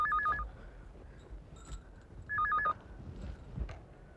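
A telephone rings indoors in two distinct bursts of trilling electronic warble separated by a pause, with faint room noise between them.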